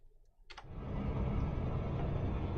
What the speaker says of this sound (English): you can really hear the rumbling of the engines a lot more than you could before